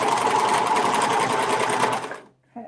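A quilting sewing machine runs fast and loud at close range, a dense rhythmic whir stitching through a quilt, then stops abruptly, followed by a brief clunk.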